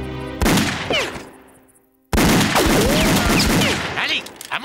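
Rapid bursts of cartoon gunfire ring out in a Lucky Luke western animation, a dense, loud fusillade that stops briefly and then resumes with ricochet-like whines and clattering shots.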